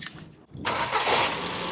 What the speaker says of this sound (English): Engine's very smooth and it's not moving, and when it misses it sort of jolts on its engine mount.